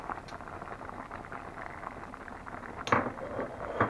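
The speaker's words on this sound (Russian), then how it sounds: "И варим еще 10 минут." Smoked hot pepper sauce simmering in a pot, a quiet steady bubbling and popping with a couple of brief clinks of utensil against the pot near the start and later.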